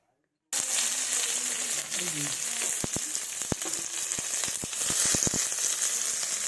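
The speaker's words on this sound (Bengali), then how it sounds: "কড়াইয়ে সরিষার তেল দিয়েছি। এবার পেঁয়াজ কুচি দেব ফোড়নে।" Chopped onions hit hot mustard oil in a pan for a fish gravy with beans, potatoes and tomatoes, setting off a loud, steady sizzle after a brief silence, with scattered sharp crackles and clinks throughout.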